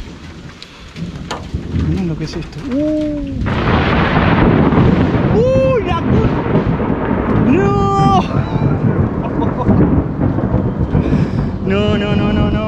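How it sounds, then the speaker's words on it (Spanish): Heavy rain pours steadily and loudly, with rumbling thunder rolling through; a person speaks briefly over the downpour. "Hay lluvia, está lloviendo con todo y encima hay trueno."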